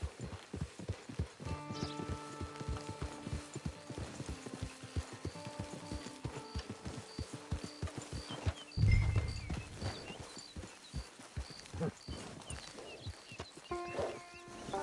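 Horse hooves clip-clopping in Red Dead Redemption 2 Online, a steady rhythmic walk near a camp, with soft musical tones and a brief whinny-like burst midway.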